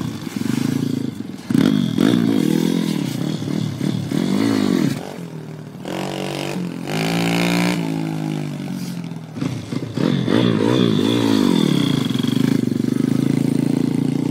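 A pit bike engine revs loudly and close, rising and falling in rough, strained bursts as someone shouts instructions at the rider over the noise.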